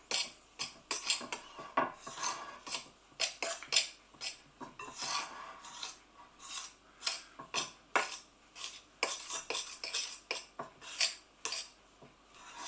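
A knife scraping and tapping through shortcrust pastry dough in a bowl, irregular rhythmic strokes of blade against bowl in quick bursts, close and clear with no talking.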